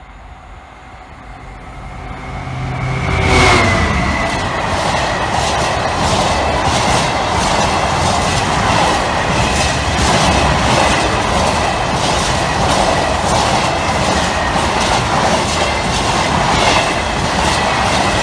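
A DB Class 66 freight locomotive hauls its train over a level crossing in Nottinghamshire, a horn blast giving way to a loud, sustained rumble and steady clatter of wagon wheels rolling close by.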